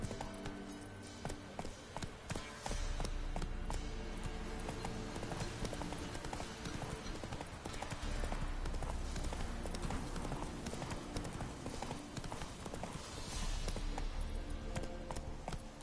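Hooves of Roach, Geralt's horse in the video game The Witcher 3, clip-clop in a steady running rhythm, loud and continuous under a dense game soundscape, with a voice speaking briefly.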